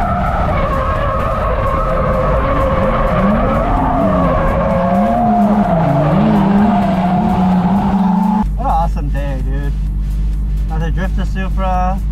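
A Toyota GR Supra drifts with loud, wavering tire squeal and skidding over a revving engine, then the squeal steadies and the engine drones on while people talk close by.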